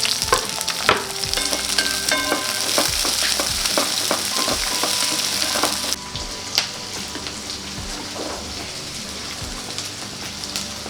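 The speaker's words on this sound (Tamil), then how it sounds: "வெங்காயம், பச்சை மிளகாய் இதெல்லாம் போட்டு வதக்கிக்கலாம்." Chopped onions and green chillies sautéing in hot oil in a pan, a steady close sizzle with intermittent scraping and stirring clicks, no talk.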